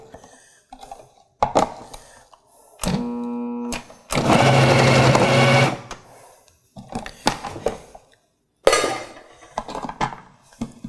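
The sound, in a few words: KitchenAid Pro Line food processor dicing onion and zucchini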